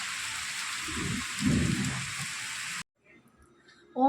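Heavy rain pours down steadily outdoors during a rainy spell, a dense loud hiss that drops off abruptly into near silence before a brief faint sound at the end.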